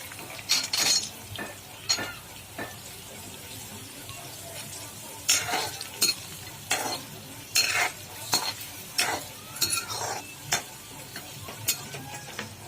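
Chopped onions and peanuts fry in a pan for poha, a soft sizzle under repeated sharp scrapes and clinks of a spoon stirring against the metal.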